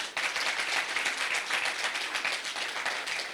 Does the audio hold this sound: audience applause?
yes